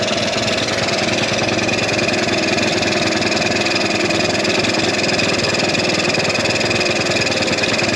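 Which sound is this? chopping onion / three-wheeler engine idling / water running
three-wheeler engine idling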